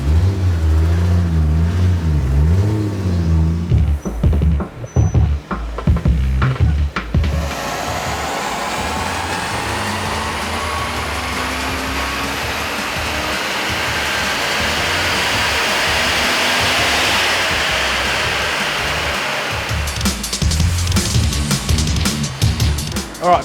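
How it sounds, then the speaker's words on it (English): A wagon car engine run up on a dynamometer, with a loud sustained roar climbing steadily through the revs for several seconds, then falling back to idle and blips; the roar is close and steady. "All right, Vic, that car's now had its first dyno run."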